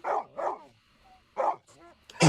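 A small dog yips and barks several times in short bursts, with brief quiet gaps between them, fairly close.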